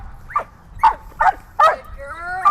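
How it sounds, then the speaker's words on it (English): A dog in a training session gives four short, sharp barks at a steady rhythm, close and loud, then a high whimpering whine at the end. "You want your dog to understand it's the barking that brings the toy to your dog."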